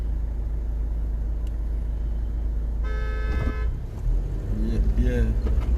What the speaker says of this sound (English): Policeman here come and direct the traffic.